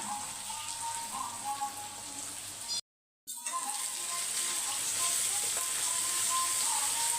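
Tomatoes sautéing in a pan, a steady bright sizzle close by, broken once by a brief total dropout before the frying hiss continues evenly.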